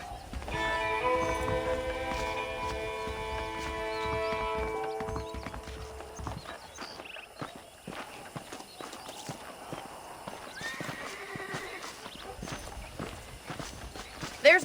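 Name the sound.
horse hooves from the video game Red Dead Redemption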